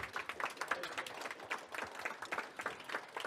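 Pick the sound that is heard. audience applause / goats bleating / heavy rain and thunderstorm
audience applause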